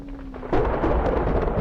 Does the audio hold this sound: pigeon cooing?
no